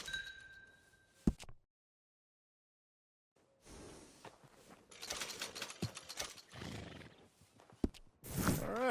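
A horse in the Western video game Red Dead Redemption 2 snorts and shifts, with hoof clops, tack jingling and mechanical clicks in bursts around a stretch of silence, moderately close.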